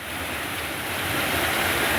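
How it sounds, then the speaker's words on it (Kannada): A floodwater stream after heavy rain at a washing plant in Sandur, Ballari, Karnataka rushes in a loud, steady, dense roar close by, with wind buffeting the microphone and no voices. "ಹಳ್ಳ ಹೆಂಗ್ ಹೋಗಕತ್ತ ನೋಡ್ರಿ ಅದ"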